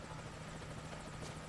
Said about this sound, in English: you can actually hear the chopper off in the distance